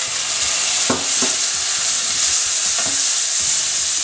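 Onions, spices, garlic and ginger sizzle in a pan for an Indian courgette kofta dish, a steady bright hiss broken by several soft scraping stirs of a spoon, close and without any voices.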